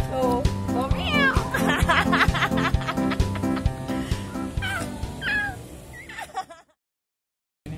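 A street cat meows a few times at night over loud rhythmic music with laughter, then everything cuts to silence near the end.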